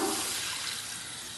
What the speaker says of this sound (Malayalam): ഒരു ഗ്ലാസ് വെള്ളം ഒഴിച്ചു കൊടുക്കാം